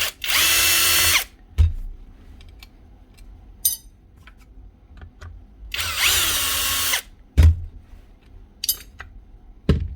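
Two loud bursts of a power driver backing screws out of a Dewalt DW331 jigsaw during a repair, each about a second long and close up, with small clinks and tool handling noises between them.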